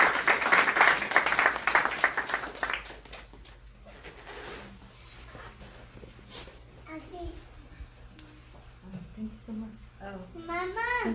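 A gathering at a church service bursts into loud, dense applause for a woman for about three seconds, then the clapping fades as people begin talking over a faint background hum.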